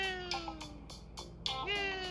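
A human voice mimics a young cat's very high-pitched meow, several thin, wavering squeaky cries in quick succession, close and fairly quiet.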